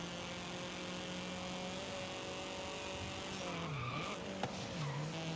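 Racing car in the Forza Horizon 5 video game with a steady engine drone throughout, then tires squeal and skid in rising and falling sweeps near the end, with no talking.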